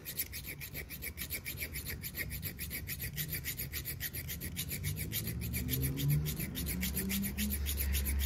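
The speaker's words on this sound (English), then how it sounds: "let's file this one down also." A hand file rasps repeatedly across screws held in a screw jig, making close, rhythmic back-and-forth strokes that grow slightly louder toward the end.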